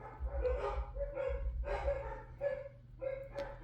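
Dogs barking at a distance, five or six separate barks in an irregular rhythm over a low hum.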